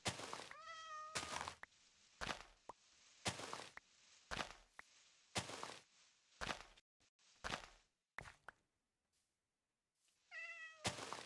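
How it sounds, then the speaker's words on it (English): A cat meows a few times, clear harmonic cries near the start and again at the end, with thumps and clattery game-like noises in between, no talking. "It's a kitty!"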